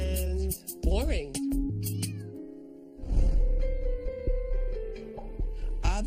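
Pet cats meow in a home, several drawn-out, pitch-bending cries overlapping with background voices and household noise.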